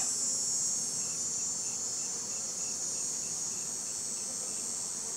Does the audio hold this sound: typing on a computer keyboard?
no